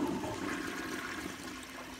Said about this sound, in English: let's see how this flushes